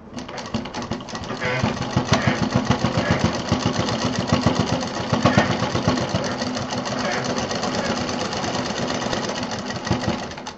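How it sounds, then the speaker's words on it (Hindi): A sewing machine runs a double line of stitching along a bag belt, its fast, steady mechanical chatter continuing close and loud, with a voice talking over it. "बेल्ट को पूरा खोलेंगे और इसमें करीब डबल सिलाई चला देंगे।"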